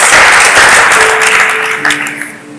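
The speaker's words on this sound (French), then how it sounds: "est-ce qu'on peut applaudir pour notre réponse?" A church congregation claps together in loud, dense applause that swells briefly and then tapers off, with no talking over it.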